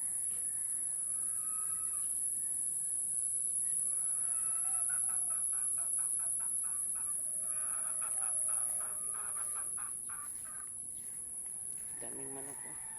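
Many chickens and hens cluck together on a rural farm, a busy overlapping chorus with insects buzzing and a steady high whine above, while someone talks over the flock.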